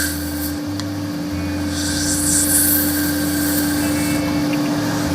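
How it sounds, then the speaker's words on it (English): A spindle gouge cutting red resin on a wood lathe, giving a steady close rasping hiss over the constant motor hum, with brief shifts in pressure and no talk. "I'm just going to clean up the bottom now with the spindle gouge"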